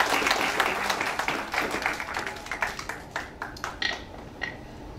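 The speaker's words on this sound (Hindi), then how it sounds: "एक बार जोरदार तालियों से स्वागत कीजिएगा" Applause welcoming a woman poet at a 2023 kavi sammelan at a central university, a dense crowd clapping that thins and tapers off over several seconds with scattered final claps.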